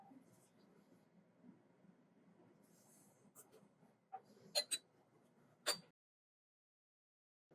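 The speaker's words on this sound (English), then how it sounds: "I'm going to have my pencil ready to mark the line of where the solvent front had ended up" Pencil marking a line on a thin-layer chromatography plate: a few short, sharp scratchy strokes, close and crisp over a faint room background, followed by silence.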